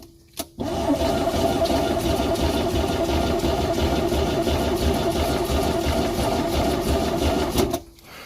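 A Mercruiser 3.0 boat engine after a head gasket replacement, given starting fluid: a click, then about seven seconds of steady, rapid mechanical cranking at loud volume, stopping abruptly.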